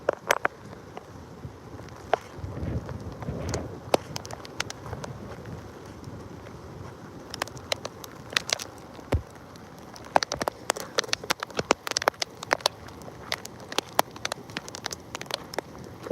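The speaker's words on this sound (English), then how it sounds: "the rain bands are blowing pretty good through here" Hurricane Helene rain bands and eyewall wind, steady rain with gusty wind buffeting the microphone and frequent sharp drops or debris ticks striking nearby surfaces, loud and continuous with no talk.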